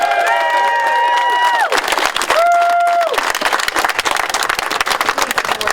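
Outdoor crowd applause at a Teamsters union rally of Amazon workers in San Francisco, with dense clapping and scattered cheers close by, interrupted early on by overlapping whistles or sirens.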